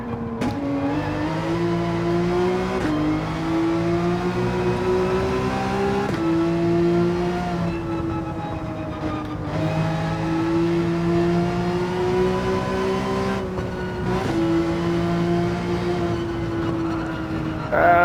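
A Porsche 911 GT3 race car engine in a racing video game drones loud and close, its pitch climbing through the revs and dropping back at several gear shifts, with no talking over it.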